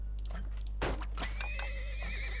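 A horse in a video game whinnies with a rising then wavering neigh, preceded by a few hoof clops and soft thuds, fairly clear against a steady low hum.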